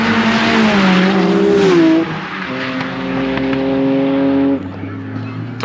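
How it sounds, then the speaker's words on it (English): A 400 bhp engine-swapped Ford Fiesta track car passes at full throttle at Knockhill circuit, its loud howling engine note shifting as it goes by, then easing off and fading, heard close from trackside with no talking. "this point where I'm standing right now is when he's at full chat"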